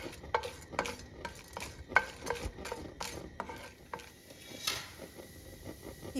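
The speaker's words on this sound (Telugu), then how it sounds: "1 టీ స్పూను శనగపప్పు వేసుకోవాలి. ఇవన్నీ 1-2 నిమిషాలు వేపుకోవాలి." Chana dal and other lentils dry-roasting in a pan, stirred continuously so a spoon scrapes and clicks in a rapid irregular rhythm over a faint sizzle, close and fairly loud.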